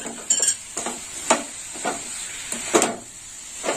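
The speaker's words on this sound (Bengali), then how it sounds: "এইভাবে নেড়ে চেড়ে ভালো করে পাক করে নিতে হবে" Coconut mixture for narkel naru being stirred in a pan with crushed cardamom, soft scraping strokes recurring every half second or so over a faint steady sizzle, close and fairly quiet.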